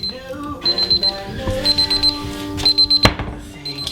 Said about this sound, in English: There's my alarm.